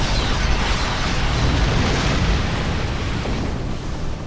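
Spaceship cannons firing in Star Trek Online, a dense, constant, booming rumble of blasts with loud, roaring, explosive noise that barely lets up, close and heavy.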